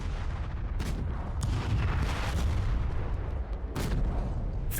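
Heavy shells slam repeatedly into a dug-in tank in a video game, a dense run of loud, booming impacts and blasts with sharper cracks standing out near the start and end.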